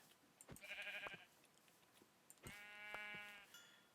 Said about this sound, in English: So let's kill some sheep.